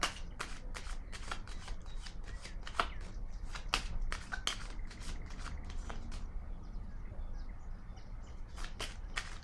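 Tarot cards shuffled by hand in a quiet room, a run of quick crisp riffling snaps and soft slides in irregular bursts, close and fairly faint.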